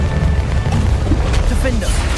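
Bombarda spell explosions rumble in Hogwarts Legacy combat, a loud, sustained low booming with bursts and crackles layered over continuous dense action noise.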